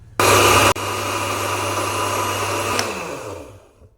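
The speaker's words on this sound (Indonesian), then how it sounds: "Lanjut saya blender 300 gram gula pasir" A kitchen blender grinds 300 grams of granulated sugar into powder, starting with a loud high-speed burst, then settling into a steady whirring roar before spinning down to silence near the end.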